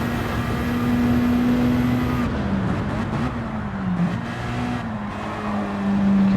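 A race car engine in the Flat Out Racing video game holds a steady, loud drone, then its pitch dips and climbs again as it works through a corner. No one talks.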